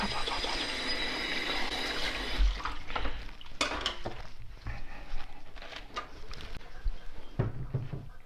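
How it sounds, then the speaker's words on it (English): Kitchen tap water runs steadily into a sink while potatoes are washed, a close continuous hiss and splash broken by clunks and knocks as the vegetables and dishes are handled. "So I'll just get on with washing."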